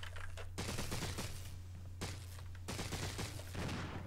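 Gunfire in the video game Resident Evil Remake, rapid bursts of loud shots in two or three clusters separated by short gaps, sharp and close over a steady low hum.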